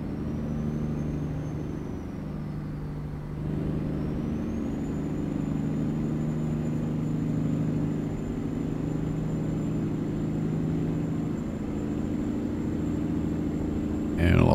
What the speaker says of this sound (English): And I love the sound of this truck.